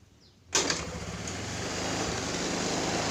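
A Honda Vario 110 scooter being repaired for an ignition fault is kick-started after near silence: a sudden burst as the engine catches, then a steady idle that settles in and slightly builds.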